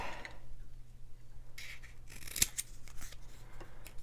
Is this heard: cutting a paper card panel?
yes